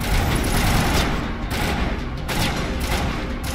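Dense, continuous gunfire in a Mass Effect combat scene, loud and unbroken throughout with booming low end and no voices.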